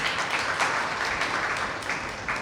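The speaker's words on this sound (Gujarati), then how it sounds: "ત્યારબાદ આપણે પ્રિયંકા ભદોરિયાને પણ તાળીઓથી વધાવીએ" An audience at a Sayaji Library youth book-talk event claps together in warm, sustained applause, a dense, even patter of many hands filling the room.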